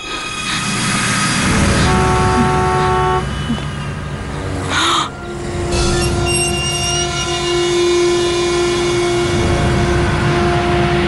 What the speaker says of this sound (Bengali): এই হর্ন শিবানীর গাড়ি।